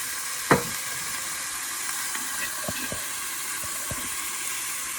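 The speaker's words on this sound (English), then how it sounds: "I have it on a medium-high heat. And I'm going to braise this meat." Meat sizzles steadily in a pan over medium-high heat, a continuous close frying hiss with small crackles and a brief clatter near the start, no voices over it.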